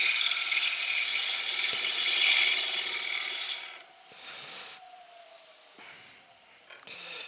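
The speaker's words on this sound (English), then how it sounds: "I'm trying to use the bevel of the chisel to burnish it as I'm going" A chisel pares through wood grain, its bevel burnishing the cut, giving a steady close scraping hiss for several seconds followed by shorter broken strokes and a few faint knocks.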